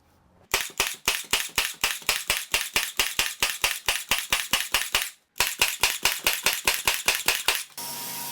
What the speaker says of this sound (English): just going to get them glued and nailed together.